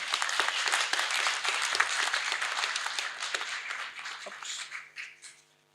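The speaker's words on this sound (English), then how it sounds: "Please give him a round of applause" A crowd at a graduation ceremony breaks into warm applause, many hands clapping in a sustained wash that gradually thins out and fades toward the end.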